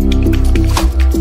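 Water splashes and drips close up as skincare is rinsed off a face at a sink, a series of wet squishing splashes in quick succession.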